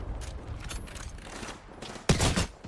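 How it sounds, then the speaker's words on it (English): Rapid gunfire from a team shooter game rattles in quick, light bursts as shots hit a wall, ending in one loud, close, heavy volley near the end. "I'm shooting the middle wall."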